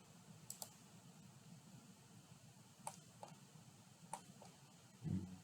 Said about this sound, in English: I'm going to click on the playback